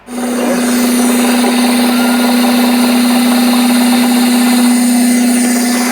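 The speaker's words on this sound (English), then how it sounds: "you can tell by how bad the engine's running that our timing is now retarded" A car engine with retarded ignition timing runs rough at a steady idle, producing a loud, constant drone with uneven, choppy texture close to the microphone, with no talking.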